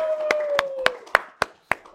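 An audience claps in a sparse, slow rhythm, with about seven distinct sharp claps spaced evenly over two seconds and a brief whistle-like tone under the first few.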